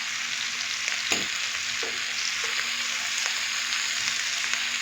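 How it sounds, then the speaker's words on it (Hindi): Tandoori chicken pieces frying in a pan give a steady close sizzle, broken by occasional knocks and scrapes as the pieces are turned. "तो अभी मैं सारी साइडों को अच्छे से फ्राई कर लूँ तकरीबन 5 से 6 मिनट के लिए"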